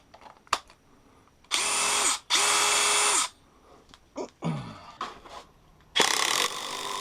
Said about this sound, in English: It is actually hammering in these concrete screws without any problem.